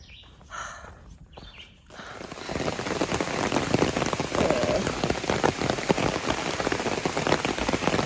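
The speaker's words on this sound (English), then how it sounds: "It's raining." Rain comes down steadily on the Appalachian Trail in Pennsylvania, starting after a quiet moment and then holding as a dense, loud, close patter of drops on surfaces.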